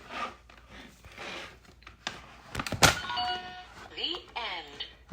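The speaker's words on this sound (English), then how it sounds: "makes what sounds like a Windows noise and says the end." A closing chime from an electronic toy book rings out as a short, bright electronic tone sequence, preceded by clattering handling noise and mixed with a person talking.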